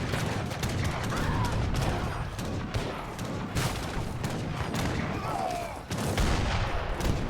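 Mortar barrages strike buildings in a real-time strategy match, a dense continuous rumble of overlapping booms and impacts with repeated sharp blasts throughout, loud and sustained with a brief dip near the end.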